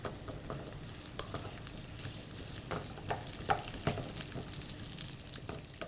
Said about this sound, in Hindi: जो ऑयल है इसमें पहले शिमला मिर्च और प्याज डालनी है। इसको आपने करना है सौटे।